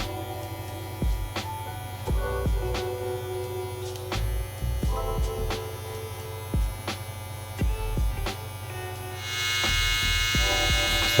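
JRL electric hair clippers cut hair at a barbershop, a steady motor buzz with mains-like hum broken by repeated short bursts as the blades bite, turning brighter and louder near the end.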